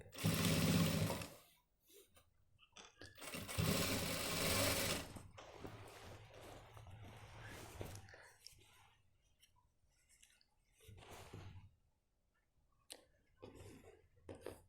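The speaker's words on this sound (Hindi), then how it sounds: "सिर्फ एक सिंगल पीस को मोड़ के हम सिलाई मारेंगे ऐसे।" A sewing machine stitches a folded single piece for a pant waist in two loud, close bursts of rapid whirring, then quieter handling and brief short runs follow.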